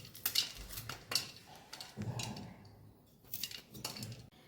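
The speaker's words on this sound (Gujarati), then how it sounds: "એક મરચાંના 4 ચીરિયા કરી અને નાના નાના ટુકડામાં આપણે સુધારી લેવાના છે આવી રીતે" A knife chops green chillies into small pieces, giving repeated light clicks and taps of the blade against a cutting board at close range, irregular in rhythm and fairly quiet.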